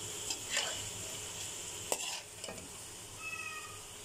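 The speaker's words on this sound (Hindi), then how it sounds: "अब मिक्स कर लेते हैं सभी चीज़ों को।" Rice soaked in water being stirred in a pan with cabbage and other vegetables for restaurant-style veg pulao: soft scraping and light sizzling, with a few sharper utensil clinks against the pan, fairly quiet and close.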